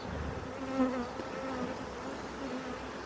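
Honeybees buzzing around an open WBC hive during an inspection, a steady close droning hum with slight wavering pitch, continuous and without speech.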